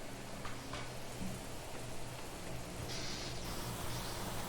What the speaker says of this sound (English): Oh, that's a strong rain out there.